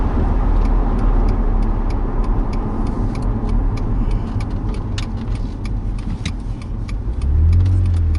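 A 2007 BMW Z4 E85 roadster driving on winding roads, a steady engine hum and road rumble from inside the car, with light rattles and a brief rise in engine note near the end.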